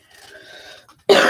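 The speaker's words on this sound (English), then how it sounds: "Here's my one big excuse me for all my stoner coughs" A person gives a short throat-clearing cough, first a faint rasp and then one sharp, loud cough at the end.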